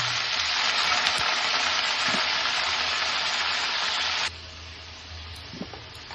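Mutton pieces fry hard in a kadai with turmeric and dried chilli powder, a loud, dense, continuous sizzle close by that suddenly drops to a quieter hiss, with light stirring taps.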